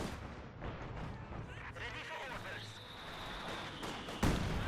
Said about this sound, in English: Artillery flying all over the place.